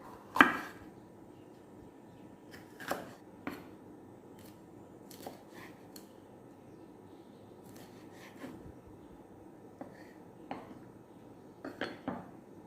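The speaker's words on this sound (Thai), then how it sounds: "เรามาหั่นเบลเปเปอร์ ประมาณซีกเดียวก็น่าจะพอ เบลเปเปอร์เราหั่นยาวแบบนี้ค่ะ" Sharp knife chops on a cutting board as bell pepper is sliced into strips, scattered and irregular, with a few louder clacks of utensils in a quiet kitchen.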